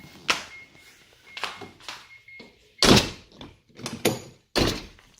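Hood being popped open on a Mazda RX-7 with a failed power steering system: a close series of dull thunks and latch clunks with short metallic knocks, and no talking.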